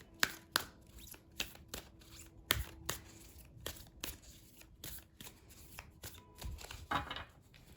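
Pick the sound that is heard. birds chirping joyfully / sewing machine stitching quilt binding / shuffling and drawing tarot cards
shuffling and drawing tarot cards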